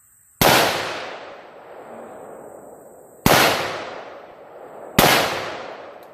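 Three sharp rifle shots at a Tannerite target, each a loud sudden crack with a long rolling decay echoing outdoors, spaced a few seconds apart with no talking.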